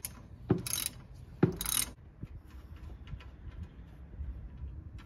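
A 21 mm wrench works loose the oil drain plug of a Peugeot 308 BlueHDi 1.6, giving two sharp metallic clicks with brief ratcheting scrapes, followed by quieter handling and faint rattles nearby.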